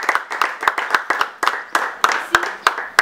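Applause for a staff member being introduced at a French-language meeting: a small group clapping in sharp, uneven, separate claps, close and fairly loud, with no talk over it.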